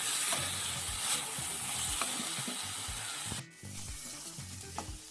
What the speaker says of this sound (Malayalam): ഏകദേശം ഒരു 2 മിനിറ്റ് വഴറ്റുമ്പോൾ തന്നെ റെഡിയായി കിട്ടും.